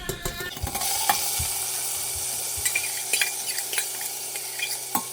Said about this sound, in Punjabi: ਜੀਰਾ ਆਪਣਾ ਭੁੱਜ ਗਿਆ ਲਾਲ ਹੋ ਗਿਆ ਆਪਾਂ ਇਹਦੇ ਵਿੱਚ ਦਾਲ ਪਾਤੀ ਹੈ